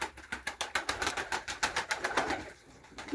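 A flock of pigeons flies overhead, their wings flapping in a quick, rhythmic series of soft whooshing beats, fairly faint and steady before briefly easing off near the end.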